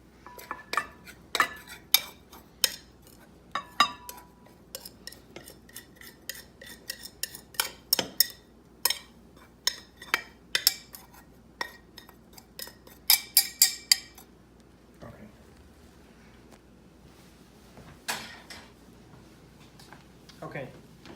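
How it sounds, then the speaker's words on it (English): Butter knife scraping and clinking against a dish while working hot food until crumbled, irregular near taps and scrapes, with a person talking throughout. "we're just going to take our butter knife and we're just going to go ahead and work that just until it's pretty crumbled up pretty well"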